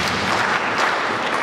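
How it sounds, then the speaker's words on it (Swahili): Audience clapping after teachers in a district are honoured at an awards ceremony, a steady broadband patter filling the whole moment without voices. "Hebu tuwapigie makofi."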